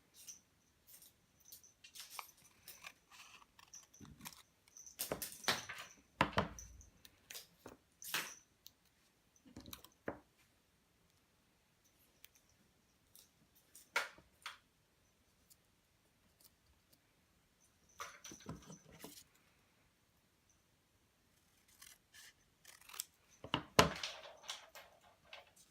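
Paper scissors slice a printed fashion-illustration image in half with sharp, close snipping and rustling in several short bursts separated by quiet pauses; no talking.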